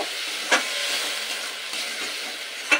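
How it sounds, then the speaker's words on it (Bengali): Spice paste frying with a splash of water in a pan, a loud continuous steamy hiss and sizzle, broken by two sharp utensil clinks. "মশলার বাটি ধোয়া একটু জল দিয়ে মশলাটা আবারও খুব ভালোভাবে কষিয়ে নেব"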